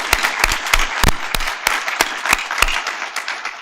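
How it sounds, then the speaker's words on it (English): An audience at a university innovation awards ceremony claps for the finalists, with loud, distinct claps close to the microphone over a softer wash of applause. "Let's just have one more round of applause for all of them, please"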